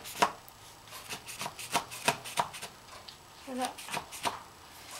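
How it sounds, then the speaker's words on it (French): A knife chops ingredients for baklava on a board in a steady series of sharp, close taps, with a brief spoken word mixed in. "On coupe."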